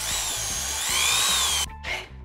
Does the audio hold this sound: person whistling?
no